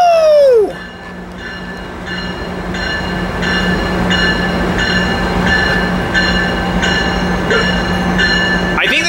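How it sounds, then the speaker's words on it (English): A Metrolink commuter train led by an MP36 locomotive rolls into track 4 at a station, a steady rumble with repeating wheel clicks over rail joints, bracketed by squealing wheel sounds at the start and end. "here's the Metrolink coming in on track 4 site"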